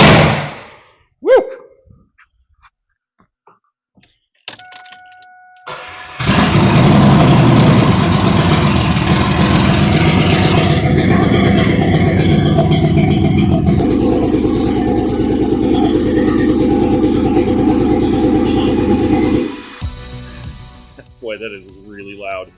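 A 2002 Camaro's cammed 3800 engine cranks, fires and settles into a loud, steady, slightly lumpy idle right after startup, with a brief rev at first; the engine runs continuously for about fifteen seconds before dropping away.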